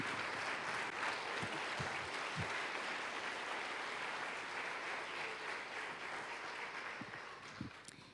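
A church congregation applauds at a worship service, a steady, dense wash of clapping sustained for about eight seconds, with a few sharper isolated claps standing out and the sound tapering slightly near the end.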